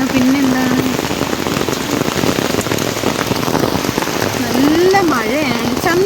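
Heavy rain pours steadily at Trivandrum Zoo, a dense, constant wash of drops hitting surfaces close by, with a person talking over it at times.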